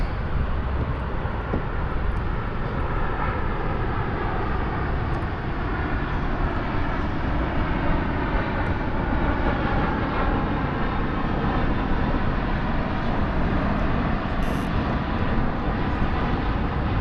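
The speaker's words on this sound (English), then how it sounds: "Another big jet landing." A big jet plane passes overhead on its approach to land near Lambert airport, its engine drone loud, broad and unbroken throughout, heard from the Missouri River.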